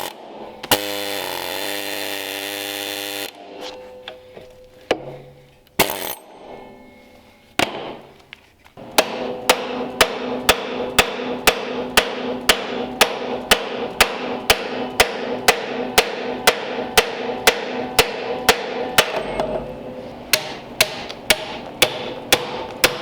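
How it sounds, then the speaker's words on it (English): Work on the front axle of a 1947 Ford Coupe. A long power-tool whir and a few scattered clanks come first, then a fast, evenly spaced series of sharp rattling bursts, close and loud, like an impact wrench. "So we're going to do the dirty job that we do all the time, taking the front axle apart."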